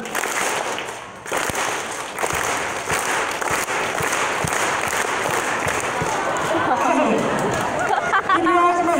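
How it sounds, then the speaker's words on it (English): A group clapping during a coordination drill, with sharp in-unison claps scattered among crowd chatter and movement, and an instructor's voice joining near the end. "Every time my hands cross in front of my body, like this, or like this, you clap."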